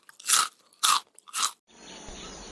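Three loud, close crunches of someone biting into crisp food, evenly spaced, followed by a quieter hiss of background noise; no talking.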